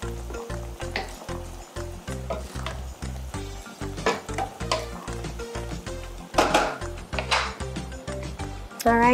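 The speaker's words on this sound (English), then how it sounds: "I'm going to add some chopped garlic." Chopped garlic sizzles in a pan alongside pasta for a chicken Alfredo, a steady frying hiss broken by a rhythmic stirring and scraping pattern, with brief louder clatters of utensils against the pan.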